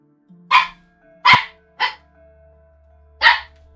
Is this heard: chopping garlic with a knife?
no